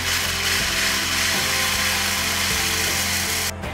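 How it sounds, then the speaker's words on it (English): A handheld mixer runs at low speed through a tres leches cake mixture, a steady close electric whir with faint rhythmic beater ticking that cuts off just before the end. "We're then going to take a handheld mixer, and just for 1 minute, at low speed, we're just going to make sure everything's nicely mixed together."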